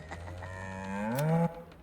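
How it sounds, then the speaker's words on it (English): A cow moos in Baldur's Gate 3, a single drawn-out low call rising and swelling near its end before cutting off, heard alone and fairly clear. "that sounded more like a cow to me"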